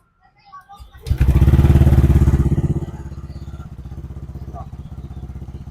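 A Yamaha Aerox scooter engine starts up after a brief cranking whirr, revs loudly for a couple of seconds, then settles into a steady, close idle with a rapid even putter.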